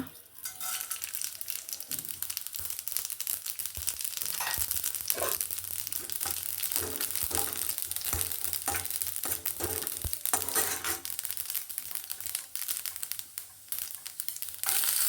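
Tempering spices for wheat rava upma crackle and sizzle loudly in a little hot oil, a dense continuous frying hiss with scattered pops and stirring scrapes, no talking.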